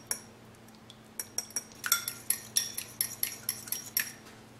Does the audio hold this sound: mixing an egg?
yes